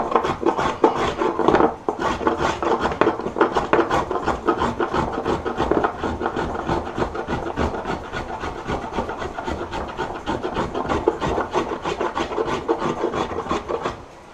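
A wood carving tool is worked by hand to remove bulk from a wooden piece, giving steady, loud, rhythmic rasping strokes that continue almost unbroken, with a brief pause near the start.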